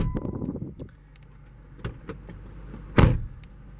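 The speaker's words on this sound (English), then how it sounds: "ahead and shut the door." A 2017 Jeep Wrangler Sahara door thumps shut with a single solid bang near the end, after some brief rustling and a short mechanical hum.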